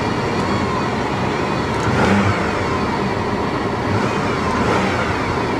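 A 2020 Mercedes G63 AMG engine runs steadily nearby, a constant mid-pitched hum with slight swells, with no talking over it.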